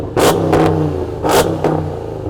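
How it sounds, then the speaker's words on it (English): A Hennessy Mammoth 1000 pickup truck, built on the Dodge Ram TRX, revs hard twice in quick succession, each loud, close blip followed by a shorter secondary bark over a deep idle rumble. "This truck sounds epic. Go on, let's have a listen. Rev it up."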